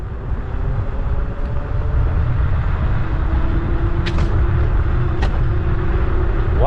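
An Ausom electric scooter running wide open at full throttle in race mode gives a steady, loud rush of wind and motor drone, with a rising whine line and a couple of brief sharp clicks near the end.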